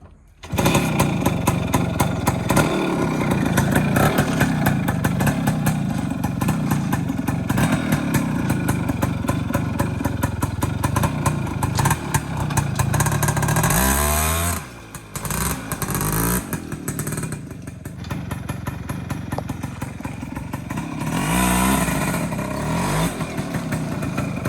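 Custom-built ATV engine fires up and revs with a steady, loud, rough drone throughout, the pitch rising and falling with throttle changes and a brief dip near the middle before it picks up again.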